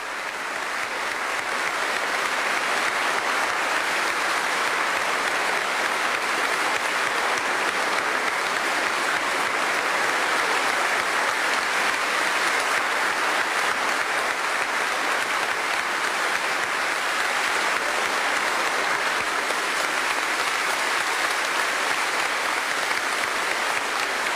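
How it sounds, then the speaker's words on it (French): Sustained applause fills the hall at the 1993 swearing-in of King Albert II of Belgium, a dense, steady clapping from a large assembly that holds at an even loudness throughout. "Nombreux applaudissements, mais surtout émotion intense de la reine Fabiola."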